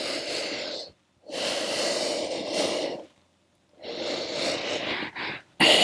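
Two slow breath cycles during a stretching workout, each a long airy inhale through the nose followed by a steady exhale, close and soft with short silent gaps between.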